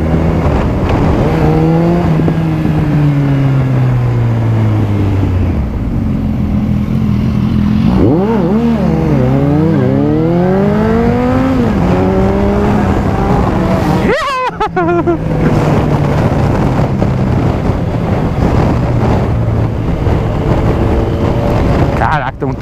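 Suzuki GSX 1250FA motorcycle on a test ride, its engine loud and close throughout, revving up and down through gears with rising and falling pitch, wind buffeting the mic and a brief drop around mid-ride before pulling hard again; a rider speaks briefly.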